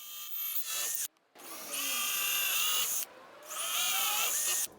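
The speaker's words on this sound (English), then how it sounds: "I need to drill 2 holes for the cable tie." A small power drill with a small bit whirs loudly in three long bursts, pausing briefly between each as it pre-drills holes for a cable tie on a homemade slingshot.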